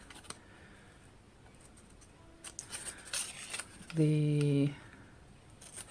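Scissors snip through a journal's cover flaps in short, close crisp cuts and light paper rustles, followed by a brief squeaky scrape, with a voice speaking softly at moments.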